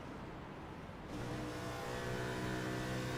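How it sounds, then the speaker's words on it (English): Simulated race car engine in an iRacing NASCAR Southern 500 event at Darlington, droning steadily at high revs and growing louder partway through as the driver clutches into a corner, with no audible deceleration and no talk. "You hear no engine decel when he gets in the corner."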